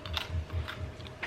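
Crunchy cranberry snowflake candy being bitten, a few quick crisp crunches up close in a quiet room.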